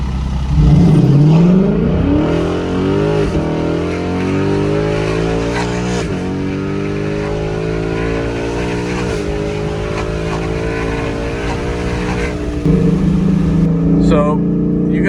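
A 2018 Ford Mustang GT with its muffler fallen off roars loudly and steadily, its deep exhaust drone rising and falling with revs across the whole stretch, close to the microphone.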